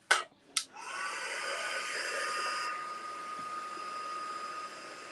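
A hair dryer blows steadily to dry gesso on a mixed media artwork, starting after a couple of brief clicks and then holding a constant close whooshing roar, with no talk.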